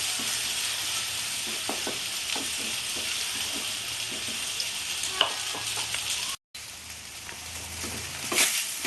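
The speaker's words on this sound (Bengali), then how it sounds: "এটা আমি সুন্দর করে ভেজে নেব" Soya beans frying in a pan for a Bengali-style dish give a steady, close sizzle with scraping stirs throughout, broken by a brief cut near the end.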